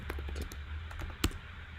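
Someone types on a computer keyboard during a coding session, producing irregular bursts of close key clicks with one sharper, louder keystroke near the end.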